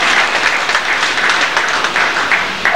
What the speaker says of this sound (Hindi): जोरदार तालियों से उनका स्वागत।